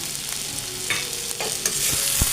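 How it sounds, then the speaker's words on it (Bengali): Onion goes into pointed gourd frying in oil in a pan and is stirred, giving loud close sizzling with scraping spatula strokes and clatters throughout. "সেই পেঁয়াজটা আমি এখন দিয়ে দিলাম"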